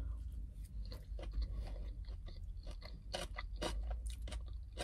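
Close, crunchy chewing of a CAVA build-your-own grain bowl with cucumber, feta and vegetables, steady mouth sounds and crisp bites running throughout with no talk.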